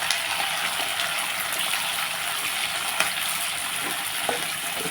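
Cashew nuts sizzle and fry in hot oil in a pan for masala upma, a steady close hiss with faint crackles running throughout, no talking.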